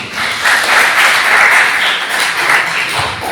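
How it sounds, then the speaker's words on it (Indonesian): Applause from a classroom audience during a teacher-training lesson, steady dense clapping that stays at an even level throughout, close and loud with no voices over it. "Tepuk tangan buat Mbak Bening ya"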